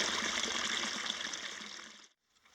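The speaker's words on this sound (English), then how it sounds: "Well, the stream is flowing nicely." A mountain stream in Domingo Baca Canyon in the Sandia Mountains of New Mexico flows with a steady, close rushing hiss, fed by recent snowmelt, then cuts off abruptly near the end.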